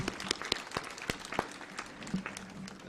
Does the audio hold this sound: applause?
yes